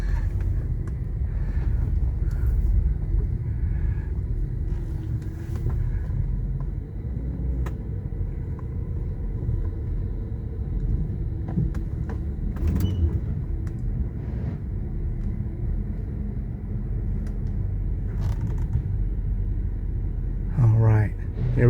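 A 1999 Mercedes S500 Grand Edition runs quietly with a low, smooth engine rumble heard from inside the cabin, steady throughout, while a person talks over it.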